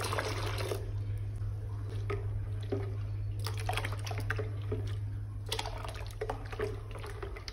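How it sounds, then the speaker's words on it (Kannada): Half a litre of milk poured into freshly made pumpkin juice, a run of wet splashing and trickling bursts over a steady low hum, close by with no talking. "ಇನ್ನು ಇದಕ್ಕೆ 1/2 ಲೀಟರ್ ಹಾಲು ಮಿಲ್ಕ್ ಅನ್ನ ಆಡ್ ಮಾಡಿ ಕೊಡೋಣ."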